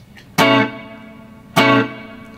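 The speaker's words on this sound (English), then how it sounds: "kind of a reverb pedal sound" Two single guitar notes played through a reverb pedal, each a loud bright attack followed by a shimmering tail that decays over about a second, the second note repeating the first after a short pause.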